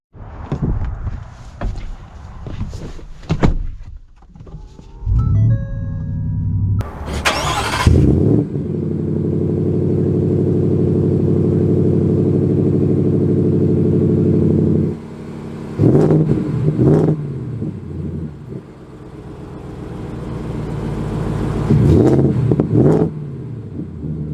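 A 2023 Ford Raptor R truck: clicks and a door thump, then the engine cranks and fires with a loud rev, settles into a steady rumbling idle, and later surges through several revving accelerations.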